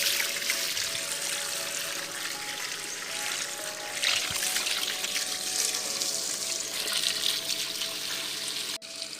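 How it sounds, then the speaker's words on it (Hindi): Water running steadily from a hose or tap onto garden plants in a village in the morning, a continuous hiss and splash with no talk, cutting off briefly near the end. "देखिए सुबह सुबह पौधों को पानी देना, ये इससे बहुत ताज़ा होती है।"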